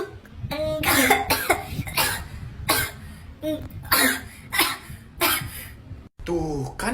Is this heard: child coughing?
yes